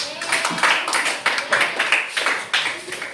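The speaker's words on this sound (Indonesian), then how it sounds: "Oke, beri aplaus dan silakan kembali ke tempat" Schoolchildren in a primary school classroom give a short round of applause, a steady burst of many hands clapping for about three seconds, close and fairly loud, with no talk over it.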